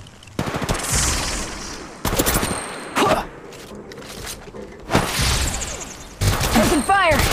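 Gunfire in the mobile shooter Apex Legends Mobile: several loud bursts of automatic fire in separate volleys, close and dominant, with short gaps between them and weapon handling sounds near the end.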